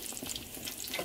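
Trinidad fried bakes, dough floats, frying in hot oil, a steady close crackling sizzle heard alone.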